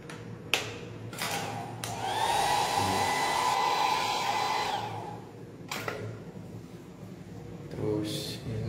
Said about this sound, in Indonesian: hair dryer aktif.